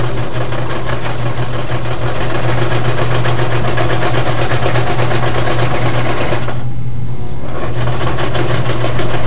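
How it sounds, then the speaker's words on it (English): A sewing machine stitches down the side of a cloth coin pouch, a loud, close, rapid mechanical whirring with a fast rhythmic chatter that barely pauses near the end before running on. "So you start sewing one side down the side."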